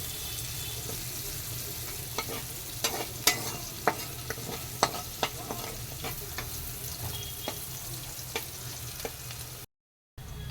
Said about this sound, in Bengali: আর এটা হালকা ফ্রাই করে নেব গোল্ডেন ব্রাউন হওয়া অবধি।